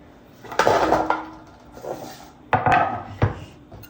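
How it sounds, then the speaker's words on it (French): A knife chops butternut squash into small cubes on a board, with a few separate thudding cuts and scrapes in bursts, close and moderately loud. "Je vais faire des petits cubes pour faciliter la cuisson."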